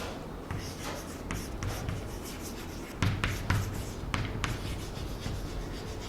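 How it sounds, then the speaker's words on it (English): Chalk or marker writing on a classroom board, a steady run of close scratchy strokes with short taps and pauses between words, heard alone without talk. "So let me write here."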